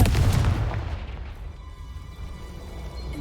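The Confringo fire spell in Hogwarts Legacy goes off as a loud, deep blast up close, then rumbles and fades into a lingering low tail with no talking.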